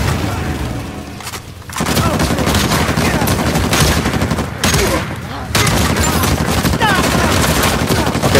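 Rapid gunfire from the Uncharted 4 survival mode, dense overlapping bursts and booming shots that run almost continuously, with two brief lulls, amid loud game action.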